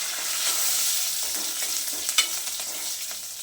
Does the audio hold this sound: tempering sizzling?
yes